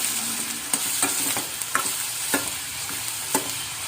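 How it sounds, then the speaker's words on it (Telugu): Onions and green chillies fry in a non-stick pan with a steady, close sizzle, punctuated by sharp spatula clicks and scrapes at irregular intervals; no one speaks. "ఆనియన్స్తో పాటే పచ్చిమిర్చి కూడా వేసేసి మంచిగా ఫ్రై చేస్తాను"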